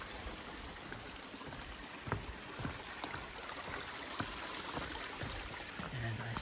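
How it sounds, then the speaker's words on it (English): A flowing stream along a long-distance hiking trail near High Point State Park, heard as a steady, faint wash of running water with soft trickling, alone and without voices. "Oh, flowing stream. I haven't seen one of these in quite some time,"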